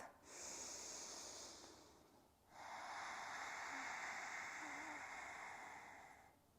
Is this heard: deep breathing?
yes